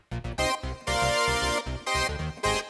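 Roland Juno 6 synth playing a pulse-width-modulated patch with the LFO set around 25%, layered over a previously recorded bass line; loud rhythmic chords and punchy low bass notes in a danceable 1980s groove, no voices.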